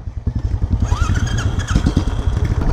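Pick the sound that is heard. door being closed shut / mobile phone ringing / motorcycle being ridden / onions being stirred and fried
motorcycle being ridden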